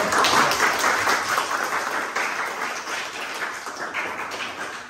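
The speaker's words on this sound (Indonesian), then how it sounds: "tepuk tangan dulu untuk Niko" A classroom of students applauds a classmate with a burst of dense clapping that starts strong and slowly tapers over several seconds. Nobody speaks.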